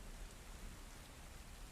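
Steady rain falls and patters on surfaces at night, a soft, even wash of drops with no voices, heard during a stormy spell of wind and rain.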